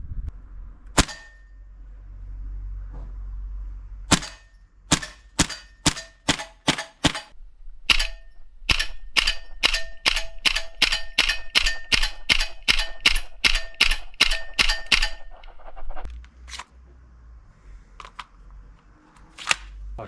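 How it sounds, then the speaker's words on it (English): A Tokyo Marui MP7 gas blowback airsoft gun fires at a target in sharp single semi-auto shots, first spaced apart and then fired in a rapid, evenly spaced string, each crack loud and close. "we're going to take some single shots, some semi-auto shots at the target"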